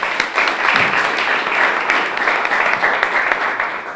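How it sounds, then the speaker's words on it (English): Audience applause for a singer at an African stage show, steady crowded clapping with sharp individual claps, sustained throughout. "Please give Gloria a big round of applause."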